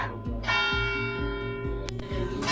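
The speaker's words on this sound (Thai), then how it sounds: "มันมีเสียงระฆังอะค่ะ" A bell rings repeatedly with a resonant, ringing tone, strikes overlapping in a steady rhythm, fairly loud and close.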